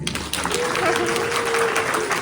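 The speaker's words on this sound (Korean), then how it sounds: "박수 한번 부탁드립니다" An audience applauds at a salon concert at Incheon Culture & Arts Center, a steady, fairly loud round of clapping with a voice speaking over it.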